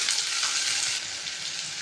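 Potatoes and ridge gourd fry with onions in hot oil, giving a loud, steady, close sizzle that runs continuously with no talk.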